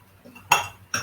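A small metal spoon clinks twice against a dish while measuring a spoonful of chicken stock for a royal-style prawn dish, two sharp, close ticks about half a second apart over quiet kitchen background.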